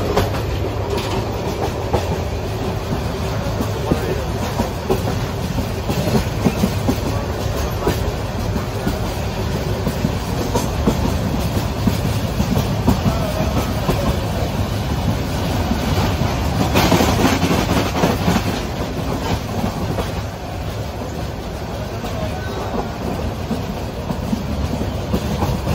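A passenger train runs on rails in Bangladesh, heard from on board as a steady, loud rumble with rhythmic clickety-clack of wheels over joints that continues unbroken for the whole stretch. No voices are heard.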